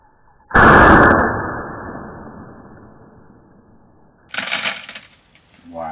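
A single loud .22 gunshot fired at CDs cracks sharply and then rings out over several seconds, followed by a short burst of noise and a faint voice at the end.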